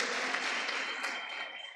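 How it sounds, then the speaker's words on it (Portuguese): Dense church congregation applause fills the whole moment, a steady wash of many hands clapping at moderate volume with no one speaking. "Uma salva de palmas para ela, igreja"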